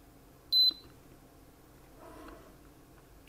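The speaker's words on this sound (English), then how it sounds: "We get a beep." A 1985 Brother WP-1 word processor gives a single short, sharp electronic beep at power-on, followed by faint mechanical rustling in a quiet room.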